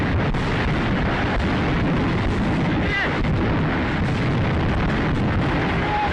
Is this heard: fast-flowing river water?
no